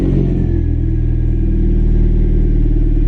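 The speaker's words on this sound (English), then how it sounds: "Seems to idle all right." A car engine idles with a steady, low rumble close up. No one speaks.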